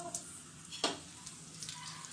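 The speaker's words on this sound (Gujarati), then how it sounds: "હવે આપણે એને ધીમા તાપે થોડા રોસ્ટ કરી લઈશું" Melon seeds and pistachio pieces dry-roasting in a pan over a low flame for adadiya pak, a faint, steady low sizzle with a single scraping stir near the middle.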